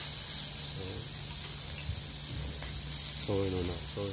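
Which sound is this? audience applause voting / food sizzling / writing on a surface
food sizzling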